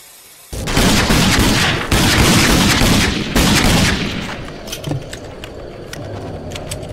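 Shotgun blasts in the video game Rage: loud, dense bursts of gunfire and booms filling the first several seconds, then trailing into quieter rattles and scattered impacts.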